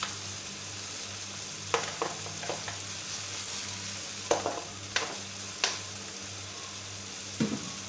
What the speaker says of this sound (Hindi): तकरीबन 5 मिनट इसको नॉर्मल आँच पे भून लेंगे हम, ताकि हमारे प्याज ब्राउन हो जाए